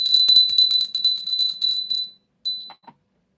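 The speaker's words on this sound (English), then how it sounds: "Ring a bell." A small bell rung rapidly, a bright shimmering jingle that rises and falls for about two seconds, then one last ring and a couple of faint clinks.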